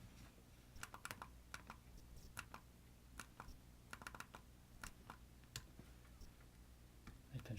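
Computer keyboard keys are pressed in a quiet room, with sharp, irregular clicks in short bursts and single taps, faint and close, and no talking.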